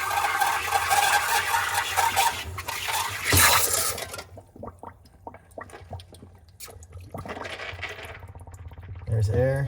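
Water gurgles and drains through a Whirlpool refrigerator's drain line after the ice blocking it was thawed with a steamer. A close rush of liquid gives way to quieter trickles and drips.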